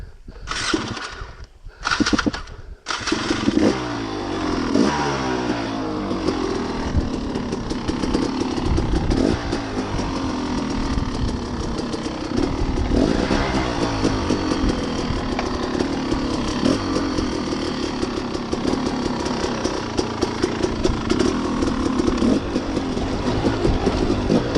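A dirt motorcycle's engine drones steadily while being ridden up a rough trail, loud and close, with throttle surges and a few sharp bursts near the start; no talking.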